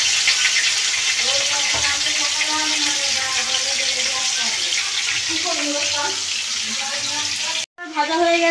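Food frying in a home kitchen pan, a steady loud hiss and sizzle with faint voices underneath, cut by a brief drop near the end.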